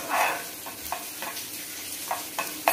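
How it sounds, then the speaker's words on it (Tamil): Garlic sautés in ghee for a Coimbatore-style South Indian kichdi, with a steady, close sizzle and several short scraping stirs of the spoon against the pan. "இந்த பூண்டு மட்டும் நெய்யில் வதங்குற வாசனை இருக்கே"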